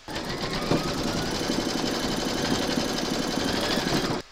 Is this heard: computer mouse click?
no